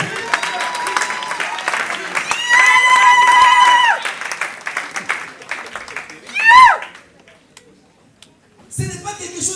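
A congregation at a religious wedding ceremony breaks into applause and cheering, a dense burst of clapping mixed with voices and shouts, with a sustained high vocal call in the middle and speech around it.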